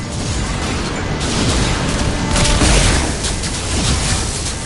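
Heavy weapon firing in a Mass Effect shooter, a sustained roaring boom of blasts with rumbling low end, loud and continuous with swelling peaks, no talk over it.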